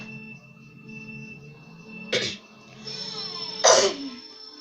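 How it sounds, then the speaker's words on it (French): A person coughing twice, close to the microphone, two separate harsh bursts over quiet Mario Kart Wii game music with steady tones. "Désolé pour ceux qui sont gênés par ma toux."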